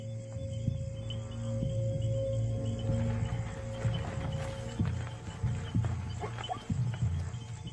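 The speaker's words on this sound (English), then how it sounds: "The sound of the herd draws one of the lionesses closer." A zebra herd's hooves shuffling and trotting through grass at night, with constant insect chirring in the background and faint rustling.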